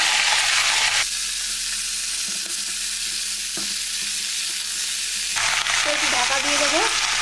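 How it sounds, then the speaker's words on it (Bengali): Vegetables including pumpkin, eggplant, pointed gourd and Malabar spinach fry in a wok with slit green chillies, a loud sizzle that softens to a lower hiss as they go in, then flares again with faint talk at the end. "এবার সব তরকারিগুলো একসাথে দিয়ে দেবো।"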